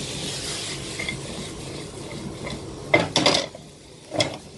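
Carrots and onions browning in a pan on high heat make a steady sizzle, with a few sharp stirring scrapes and clatters near the end.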